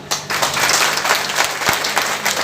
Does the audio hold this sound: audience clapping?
yes